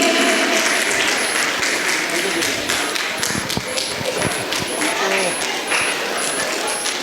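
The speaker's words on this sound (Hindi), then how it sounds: "एक बार जोरदार तालियों से स्वागत" Audience applause at a Jaiswal Samaj community youth gathering in Jabalpur, a loud, dense, steady patter of clapping filling the whole stretch, with a voice faintly underneath.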